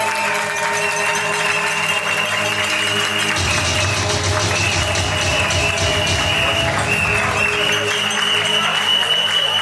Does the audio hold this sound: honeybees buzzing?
no